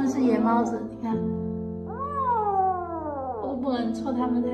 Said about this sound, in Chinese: 只是它们是野猫子，你看，